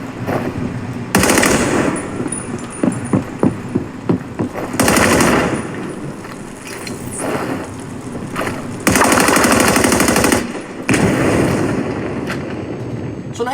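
Video game gunfire through an Anker Soundcore Boost portable speaker: dense machine-gun bursts and heavy blasts in repeated loud waves, slightly bright and thin, with game sounds between volleys.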